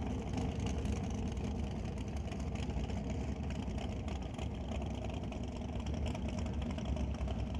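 A small block Ford single turbo drag racing engine rumbles steadily at Mission Raceway Park, a dense, low, continuous drone heard from a distance with no clear revving or gaps.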